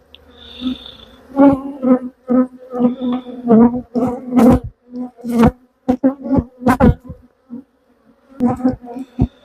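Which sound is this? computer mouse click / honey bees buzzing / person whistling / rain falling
honey bees buzzing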